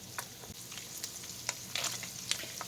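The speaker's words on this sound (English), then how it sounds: "I'm going to add my diced onion." Diced onion tumbles into hamburger meat browning in a hot pan, giving a steady close sizzle with scattered crackles and a few louder pops as the pieces hit the fat.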